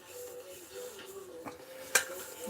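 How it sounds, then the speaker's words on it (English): Coffee cake ingredients for a caramel apple coffee cake being mixed in a bowl, with soft scraping and stirring and one sharp clink of utensil against the bowl, quiet and close. "mix this business up"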